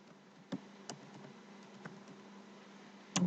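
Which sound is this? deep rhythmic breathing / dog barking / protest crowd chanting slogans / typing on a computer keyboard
typing on a computer keyboard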